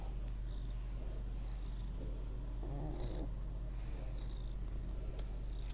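A pet cat named Thief Kitty purring softly and steadily up close, with a couple of faint louder breathy rumbles in the middle.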